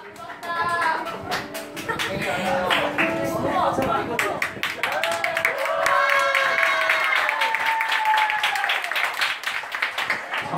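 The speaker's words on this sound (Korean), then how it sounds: "우리 박수 쳐줄 수 있나요?" Applause from a concert audience in a live performance venue, a steady wash of many hands clapping that swells and holds for several seconds, with voices and tonal sounds mixed in throughout.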